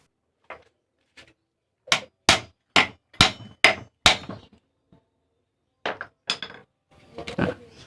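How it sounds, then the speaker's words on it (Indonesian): Hammer taps on a nut securing a sewing machine motor's inner pulley, held with locking pliers: a dozen sharp metallic knocks, irregular, in two clusters with a pause between, close and loud. "Selanjutnya kita ketok saja menggunakan palu."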